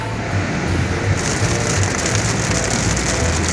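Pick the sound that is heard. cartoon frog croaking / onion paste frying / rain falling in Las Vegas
rain falling in Las Vegas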